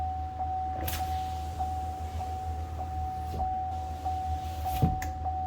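Chevy Cruze power window after a regulator replacement, run through auto up and down with a steady motor whine and a few thumps as the glass stops, moderately quiet inside the car.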